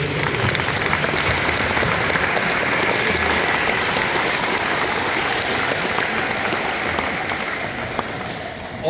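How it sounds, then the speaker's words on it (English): An audience at a school spring band concert applauds loudly and steadily, a dense wash of clapping that holds for the whole stretch before easing slightly at the end. "please give them a big round of applause because they deserve it too"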